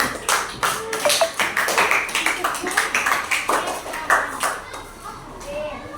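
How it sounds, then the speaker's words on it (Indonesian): Children in a classroom clap in a burst of quick, uneven handclaps lasting several seconds, with young voices chattering and calling out among the applause. "berikan tepuk tangan buat semuanya"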